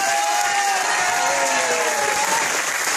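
Loud, sustained applause from an audience at a live music evening at a social club, a dense unbroken wash of clapping with a faint tonal ring running through it.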